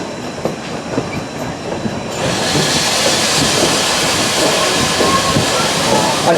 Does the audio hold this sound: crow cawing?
no